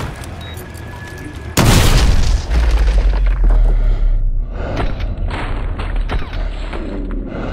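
A breaching charge in Call of Duty Modern Warfare 2 erupts in a sudden, very loud boom that rolls into a long, heavy rumble with crackling debris, over a steady background of game noise.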